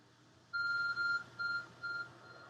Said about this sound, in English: Glowing beeping object. My smartphone.